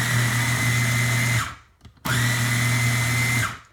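A Vitamix blender whirs at a steady high pitch while blending non-dairy ice cream, running for about a second and a half, stopping briefly, then starting again for another loud, even burst before winding down.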